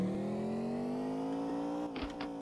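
In a Unity sim-cade car physics game, a simulated car engine whines and climbs steadily in pitch as it accelerates, then a sharp gear-shift effect cuts in with a brief double click near the end.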